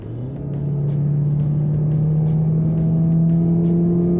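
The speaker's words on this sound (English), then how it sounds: "the engine actually sounds like it's louder" A Chevrolet Impala engine revs up and holds a loud, steady droning pitch that climbs gradually, with faint ticking and road rumble underneath.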